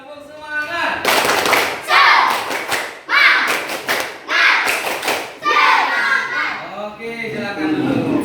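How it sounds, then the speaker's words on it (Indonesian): Schoolchildren in a classroom clap their hands and jump in loud, bursty rounds, sharp claps and thuds repeating every second or so amid lively chatter and shouting. "bertepuk tangan"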